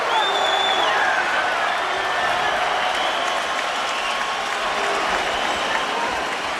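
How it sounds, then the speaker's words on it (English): Dense arena crowd at the 2003 Lennox Lewis versus Vitali Klitschko heavyweight boxing fight, steady loud applause and cheering with scattered whoops throughout, a continuous roar with no clear pauses. "Crowd getting their money's worth."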